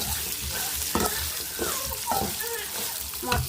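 Mustard seeds and peanuts frying in oil in a pan, a steady loud sizzle with crackles and a few sharper spatters and stirring scrapes throughout, with no voice over it.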